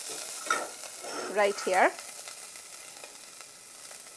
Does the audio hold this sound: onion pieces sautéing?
yes